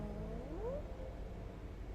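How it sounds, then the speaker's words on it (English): A cat at a hotel reception in Paphos gives a single rising, drawn-out meow, fairly quiet against steady room noise, with no talk during it. "What a beautiful little cat he is."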